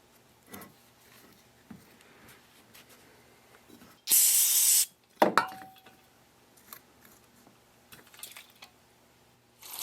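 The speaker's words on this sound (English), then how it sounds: "Put out with some brake cleaner." A can of brake cleaner sprays a single loud hissing burst of almost a second onto a stuck part of a Case 170B excavator, with scattered metallic knocks and handling noises before and after.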